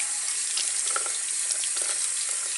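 A sink tap runs steadily while hands are rinsed, a continuous close hiss of flowing water with light splashing and no talk.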